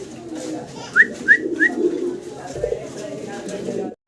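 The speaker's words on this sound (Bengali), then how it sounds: "খুব চমৎকার একটা কবুতর জোড়া দেখতে পারতেছেন" A pair of pigeons makes a few soft, close calls, three brief rising notes in quick succession, under a voice talking over a quiet room.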